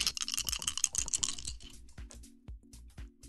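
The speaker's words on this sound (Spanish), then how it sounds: "Venga, aquí tengo los dados. Venga, tres daditos." Three small dice rolled together, a quick burst of clattering bright rattles followed by a few sparser taps and knocks as they settle, close and fairly loud with no talk.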